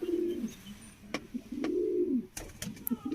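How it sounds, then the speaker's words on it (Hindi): Pigeons coo in soft, rolling calls close by, with a few sharp clicks and taps mixed in; a second coo swells after the first. "ये कबूतर है जी"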